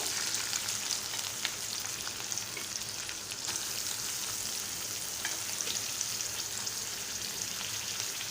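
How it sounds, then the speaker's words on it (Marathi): Green chilies, curry leaves and onion frying in hot oil for a Malvani jackfruit bhaji, a steady dense sizzle running throughout with occasional faint scrapes of a spoon stirring the mix. "चमच्याने आपण असं मिश्रण एक करणार आहोत आणि तेलात थोडा वेळ फ्राय करू देणार आहोत"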